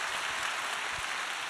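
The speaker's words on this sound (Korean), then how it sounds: "우리 서로 격려의 박수 한번 보내볼까요?" Faint, steady applause from a seminar audience clapping in encouragement, a distant, even patter of many hands lasting the whole moment with no voices over it.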